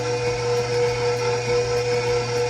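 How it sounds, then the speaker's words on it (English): A stand mixer with a paddle attachment beats melted butter into a cinnamon roll dough mixture, giving a steady, even motor hum with a constant whirr that carries on without a break. "now I'm going to take my paddle attachment and mix that up until it's combined"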